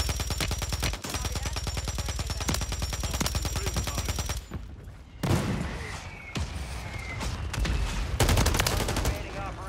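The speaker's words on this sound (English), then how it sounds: "Mortar support incoming." Mortar strikes land during a ranked Call of Duty Warzone match: loud, rapid rattling bursts of fire run for several seconds, then heavy explosive booms and impacts hit at intervals.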